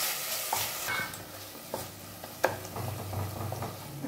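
Tomatoes with onion and salt sauté in a pan for white channa masala, a soft sizzle broken by a few sharp spoon scrapes and clacks as they are stirred, close and quiet, no talking.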